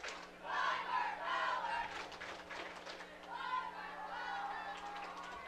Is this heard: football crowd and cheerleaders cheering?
yes